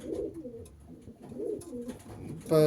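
Racing pigeons in good condition coo close by in a series of soft, rolling, repeated coos, ending with a short sharp rattling burst.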